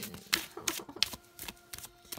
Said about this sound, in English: I just love shuffling this deck